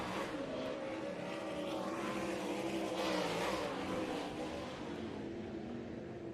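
Several 360 sprint race cars roar around a dirt oval toward the checkered flag, a continuous high-pitched engine drone rising and falling as they pass at middle distance, with no voices.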